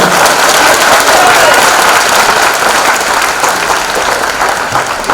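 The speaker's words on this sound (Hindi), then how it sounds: "ताली हो जाए।" Loud, sustained applause from a theater audience at a stage play in Jamshedpur, dense clapping filling the room evenly with crowd voices mixed in.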